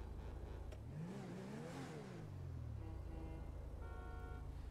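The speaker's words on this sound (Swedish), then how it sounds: "Gud vad de tutar och hör sig." Trucks on a Stockholm street rev their engines with rising and falling roars, while horns toot in short blasts near the end, all heard from a distance beneath steady traffic noise.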